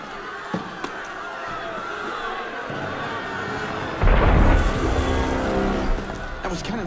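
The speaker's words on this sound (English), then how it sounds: "That was cannon fire." A rumbling ambience with a few knocks, then a heavy deep boom that rolls on, distant cannon fire in Assassin's Creed Unity.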